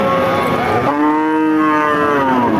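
A cow at a crowded cattle market gives one loud, close, drawn-out moo lasting about two seconds over a bed of crowd noise.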